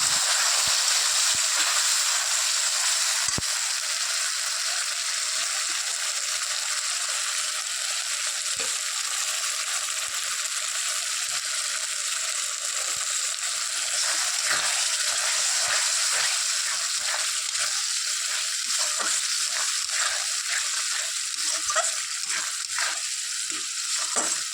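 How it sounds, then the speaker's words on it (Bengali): Mutton masala with a splash of water fries in a wok, a continuous close hiss with irregular scraping stir strokes that grow busier in the second half, no talking. "ভালোভাবে এখন মশলাটাকে কষিয়ে নেব"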